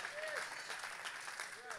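A church congregation claps during a worship service, brisk dense clapping mixed with crowd noise and voices underneath, steady throughout the short stretch.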